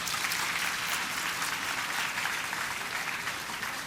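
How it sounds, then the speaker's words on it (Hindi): An audience applauds a prize winner at an event, with sustained dense clapping at a moderate distance, steady throughout and without talk. "तालियां रुकनी नहीं चाहिए."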